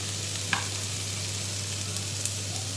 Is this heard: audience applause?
no